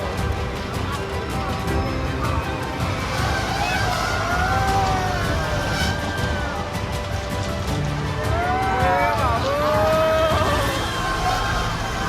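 A fairground ride runs at the Solapur Gadda fair, a loud, constant mechanical roar with siren-like wails that sweep up and down twice across the crowded scene.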